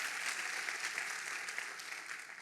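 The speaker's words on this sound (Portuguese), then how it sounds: "Você pode dar uma salva de palmas aos nossos líderes e pais para toda a vida." Church congregation clapping steadily, a fairly faint, even patter of many hands sustained throughout without talk.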